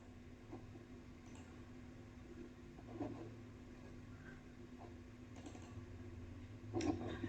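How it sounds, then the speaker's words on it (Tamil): Soft, fast typing of Python code on a computer keyboard, keys clicking steadily and faintly over a constant hum, with a few louder clacks. "நம்மளுடைய கோடிங்ஸ் இதுல டைப் பண்ணியாச்சு."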